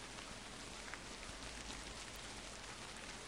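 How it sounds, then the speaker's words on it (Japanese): Steady rain falls in the horror game Tsugunohi, a continuous even hiss of drops on the ground that runs through the whole stretch with no other sounds. "雨降ってきた。"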